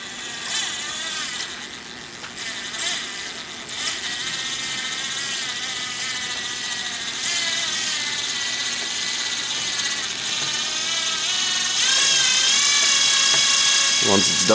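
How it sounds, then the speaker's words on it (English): A power drill spins a steel rod, winding wire into a coil for chainmail links, giving a steady high whine that holds throughout and rises slightly toward the end. "Insert my wire and start winding."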